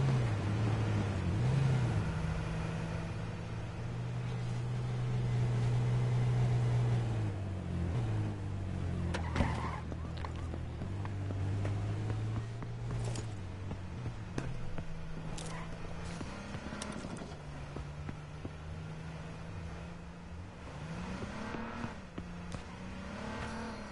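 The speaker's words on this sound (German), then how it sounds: "Die Autos fahren wieder Kreise, ne?" Cars driving in circles in the video game H1Z1, engines droning and revving with shifting pitch as they loop around, a steady, fairly loud motor hum that rises and falls throughout.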